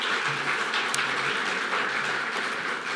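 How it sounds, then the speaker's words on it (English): An audience at an awards show applauds a nominee, a steady, dense clapping that holds at an even level from start to finish. "Please give a round of applause for Hunter Jones."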